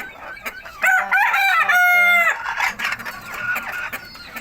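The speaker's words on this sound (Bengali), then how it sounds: "এই যে একটা মোরগ আমার" A backyard desi rooster crows loudly and close by, one long drawn-out cock-a-doodle-doo followed by a few softer clucks from the hens around it.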